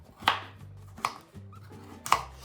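A knife chops through firm pumpkin squash in three sharp, evenly spaced strikes, each a crisp, close thud of the blade meeting the board, with faint scraping between cuts.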